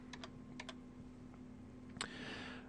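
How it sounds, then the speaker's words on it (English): Typing on a computer keyboard gives a few quick, faint clicks in small clusters, then a single louder keystroke, over a low steady background hum. "So we'll go ahead and type in"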